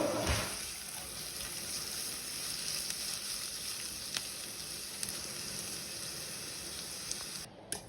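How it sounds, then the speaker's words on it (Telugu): Carrots frying in a pan over low heat while a pasta dish is being made, giving a steady close sizzle throughout with small stirring clicks, no voices. "క్యారెట్, మంచిగా సిమ్లో పెట్టుకొని ఫ్రై చేసుకోవాలి."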